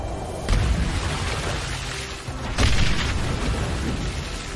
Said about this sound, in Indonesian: Auto meledak di tempat.